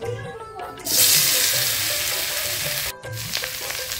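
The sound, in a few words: boiled potatoes frying in pan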